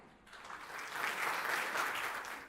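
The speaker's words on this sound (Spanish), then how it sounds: "Un aplauso para él." An audience at a lecture on Colombia's social security system applauds Dr Norman Muñoz, with steady clapping that swells and then holds without speech over it.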